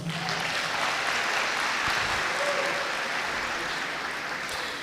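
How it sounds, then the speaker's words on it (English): Sustained applause from an audience at a merSETA engineering live event, dense steady clapping that fills the whole stretch at an even level. "Can we really give a round of applause?"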